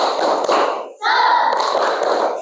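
A sixth-grade class claps together in a rhythmic spirit cheer, a dense burst of hand claps broken by a brief pause, close and loud, with children's voices mixed in.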